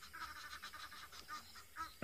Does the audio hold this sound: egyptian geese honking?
yes